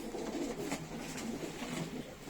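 Several pigeons coo continuously in a loft, their low rolling calls overlapping in a steady moderate murmur with no talking.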